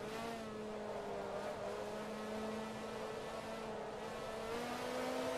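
A Ferrari's engine in the racing game Forza Motorsport 2 drones steadily as it laps a track, an even, sustained engine tone at low volume with no talk.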